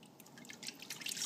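Warm water pours into a Thermochef jug, a soft close trickle that swells steadily louder as the stream fills the container.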